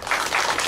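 Congratulatory applause fills a church service, a steady wash of clapping from the congregation that stays loud and even without a break.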